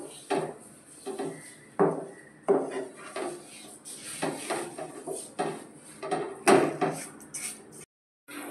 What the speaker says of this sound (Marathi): थोडंसं घट होईपर्यंत परतून घ्यायचं